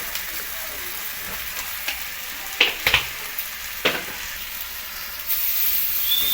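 Mutton with turmeric and salt sizzles steadily in a pan while being stirred, with a few sharp scrapes and knocks of the spoon against the pan and the frying growing louder near the end.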